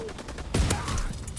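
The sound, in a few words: Blunderbuss shotgun gunfire in Call of Duty WW2 video game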